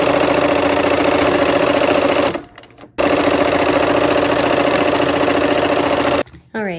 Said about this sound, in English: I'm gonna go ahead and sew with my 1/4 inch seam